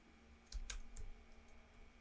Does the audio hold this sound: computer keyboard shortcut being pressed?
yes